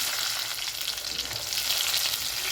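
Spices crackle and splutter in hot oil, a dense continuous sizzle with rapid popping, close and fairly loud.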